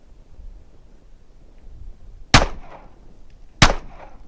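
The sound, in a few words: handgun shot fired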